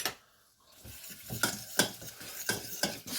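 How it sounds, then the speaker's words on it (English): Bacon is stirred in a pan as a utensil scrapes and taps the metal in an uneven rhythm over a soft sizzle, close and moderately quiet, with no talk. "Stir them around."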